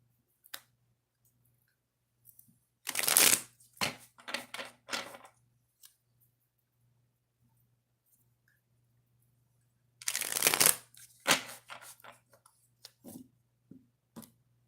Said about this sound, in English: let's do 2 shuffles before we start